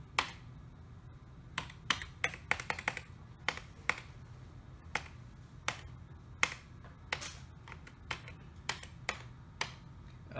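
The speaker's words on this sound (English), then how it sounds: "Let me press the keyboard escape." Computer keyboard keys pressed one at a time while a Raspberry Pi 4 emulator game is being navigated: sharp, close clicks in an irregular rhythm, some in quick clusters, over a low steady hum.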